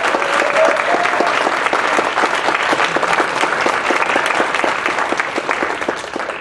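Loud, sustained applause from an audience honoring writing award recipients at a university awards evening, dense and steady throughout with many overlapping claps close by.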